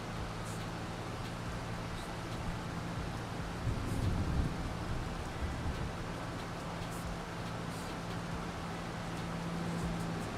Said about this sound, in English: Because it started raining.